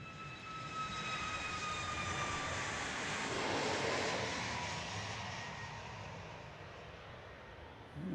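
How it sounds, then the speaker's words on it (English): A fixed-wing airplane at Dallas Love Field roars past, a loud sustained jet engine rush that swells to a peak midway and slowly fades, with a faint whine riding on top and no voices. "as this plane roars past us"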